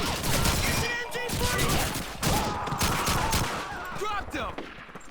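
Dense, continuous gunfire from a Call of Duty 2 World War II battle, with rapid rifle and machine-gun bursts crackling throughout, occasional heavier blasts, and a voice talking over the din.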